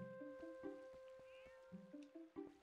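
A cat in The Legend of Zelda: Twilight Princess on GameCube meows several times in short, clipped calls over a quiet looping game soundtrack, the game's sounds playing on their own without speech.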